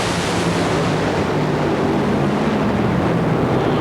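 Top fuel dragsters roar down the quarter mile at the 1991 NHRA Motorcraft Ford Arizona Nationals, a loud, unbroken wall of engine thunder that stays dense and constant from start to finish with no talking.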